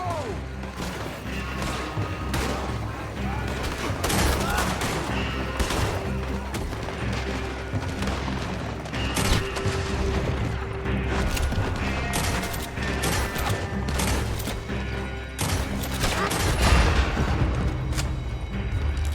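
A Red Dead Redemption 2 shootout with dense gunfire: overlapping rifle and pistol shots crack and boom continuously over a loud game mix, with faint shouting in the background.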